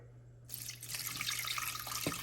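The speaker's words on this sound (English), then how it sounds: "you're gonna come in with your 3 cups of water." Three cups of water pour steadily into a pot of rice with melted butter for cilantro lime rice; a continuous splashing rush begins after a brief quiet start and runs without pause.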